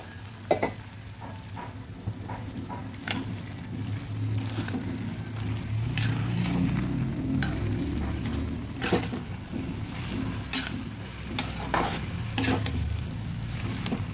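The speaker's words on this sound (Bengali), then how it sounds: "সুন্দরভাবে চালের গুঁড়োকে জলে গুলে দিয়ে দিচ্ছি" Rice flour mixed in water poured into sizzling banana stem in a pan, a continuous close sizzle broken by repeated sharp scrapes and knocks of stirring.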